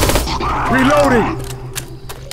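Gunfire in the zombie shooter Left 4 Dead 2 comes as several sharp shots, with a clustered burst early and a few spaced cracks toward the end, mixed with voices talking.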